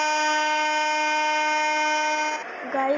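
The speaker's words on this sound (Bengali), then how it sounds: "লম্বা করে একটা হর্ন দিয়ে এখন ছেড়ে দিব" A long, sustained train horn in a Bangla train simulator game holds a steady multi-tone blare for over two seconds, then cuts off into softer rumbling and a brief second tone.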